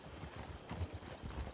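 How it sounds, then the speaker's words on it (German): Donkey hooves clip-clop at a walking pace, a series of soft, fairly quiet hoofbeats over a faint steady background tone, with no talk. "pass auf mit deinem Esel, Junge"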